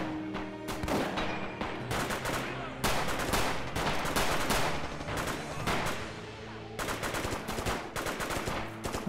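Gunfire and explosions in the Rising Storm video game, including a grenade booby trap set as an IED, heard as a sustained barrage of sharp bangs and bursts in an urban setting, loud and repeated throughout.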